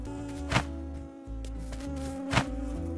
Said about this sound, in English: Oh my gosh, the loudest bee ever. But I got it! And it was just a fly.